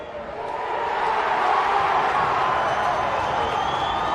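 A large crowd at a football grand final roars for a goal, the cheer swelling within the first second and holding loud and steady, with no one talking over it.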